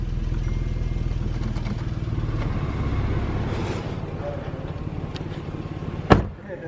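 A car engine runs at a steady, rumbling idle with the air conditioning blowing, a constant near drone that holds throughout until a sharp click cuts in near the end.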